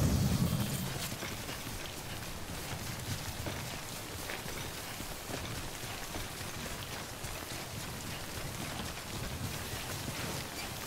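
Timefall rain from the video game Death Stranding falls as a steady, even hiss of rain on surfaces, constant for the whole stretch with a brief low rumble at the very start and no voices.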